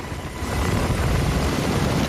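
Rescue helicopter at the windy summit of Yushan mountain, a steady close rotor and engine roar that swells slightly and then holds at full loudness, with no voices.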